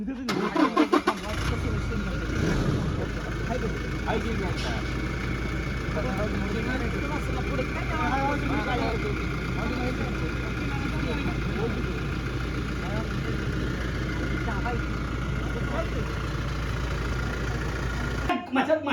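A petrol car valued at fifty lakh rupees cranks over and catches about a second in, then settles into a steady, close idle that runs throughout while several people talk over it.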